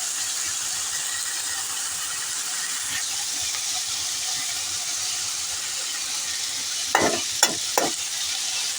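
Potatoes with ginger being stirred in a hot pan for a chickpea potato curry, a soft continuous sizzle with a few sharp clinks of the spoon against the pan near the end.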